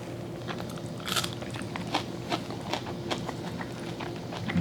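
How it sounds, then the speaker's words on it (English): Fresh raw onion bitten between tastes of salty pork at a Honolulu drive-in, giving a few short, sharp crunches close to the mouth over steady background bustle. "You heard that crunch, that fresh onion."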